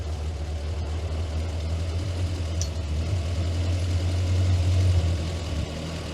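The engine of a Morris Minor left unused for nine years runs at a low, steady idle with no throttle as the car strains to move, its deep hum rising slightly toward the end, close and without talk.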